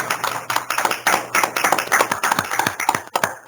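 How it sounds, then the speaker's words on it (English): Meeting participants applaud together, a dense run of overlapping hand claps, uneven and lively, lasting the whole stretch at moderate loudness with no talk over it. "We always do applause, but it's hard right now because we're really spread out."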